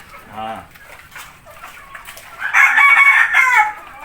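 A rooster crows loudly nearby at a small backyard farm, a long strained call, following some softer clucking and a brief voice.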